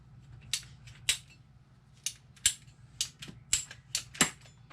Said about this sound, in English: now we just need a piece of pipe to cut here